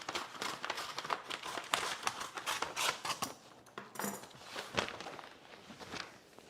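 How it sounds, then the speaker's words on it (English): Scissors cut paper in a run of quick, sharp snips and rustles, close and moderately loud, with short pauses between bursts. "I hate cutting paper on stream."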